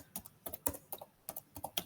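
Quick bursts of keystrokes on a computer keyboard while code is entered, close and fairly quiet, in uneven clusters of clicks with short pauses between.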